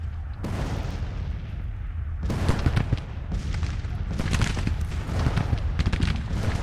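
Artillery cannon fire in the video game Grand Tactician: The Civil War, with repeated booming shots and crackling volleys in dense overlapping bursts after a brief quieter opening, loud and continuous throughout.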